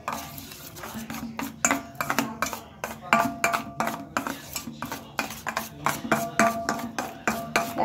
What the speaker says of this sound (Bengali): এই উপকরণগুলো একসাথে আমি ভালোভাবে মিশিয়ে নেব।